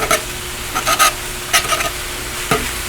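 Onions and meat for cheesesteaks sizzle on a Dyna-Living 22-inch commercial electric flat-top griddle, with several sharp scraping stirs of a spatula breaking through a steady hiss.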